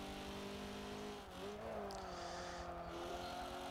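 A 2013 Fiat Punto Super Sport's engine in Forza Motorsport 7 drones steadily at moderate volume, with a brief dip and pitch shift as it shifts and revs back up.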